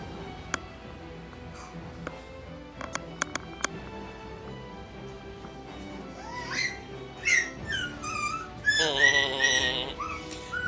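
A dog whimpers and yips in a rising, whistle-like series of high cries, growing busier toward the end over faint ticking background sounds.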